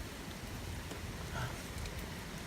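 Steady rain patters down around an outdoor drinking gathering with fish being served, forming a dense hiss close by, with faint voices mixed in.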